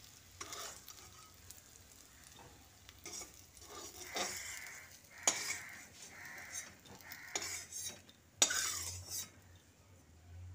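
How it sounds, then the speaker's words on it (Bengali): Fried bitter gourd slices are lifted out of a wok into another pot: quiet oil sizzle with several sharp metal spatula scrapes and clinks against the pan, no voices. "করলাগুলো আমি খুব সুন্দর করে ভেজে নিয়েছি। এবার তুলে একটা অন্য পাত্রে রেখে দিচ্ছি।"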